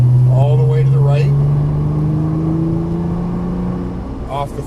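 Nissan GT-R engine on a course marked with orange cones, revving as the throttle is rolled on, a loud, smoothly rising tone climbing in pitch over several seconds, with brief voice fragments at the start and end.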